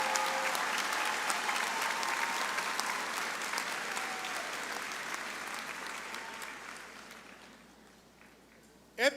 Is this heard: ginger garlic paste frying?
no